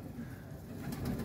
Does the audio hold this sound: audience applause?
no